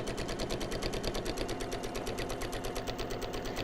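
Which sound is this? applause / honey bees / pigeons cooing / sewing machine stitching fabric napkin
sewing machine stitching fabric napkin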